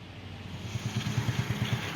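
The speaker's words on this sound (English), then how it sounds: "We got Little Hands on the dirt bike. It's a semi-automatic." A 90cc Pantera semi-automatic dirt bike engine runs nearby, a low, fast-pulsing putter that grows slightly louder over two seconds.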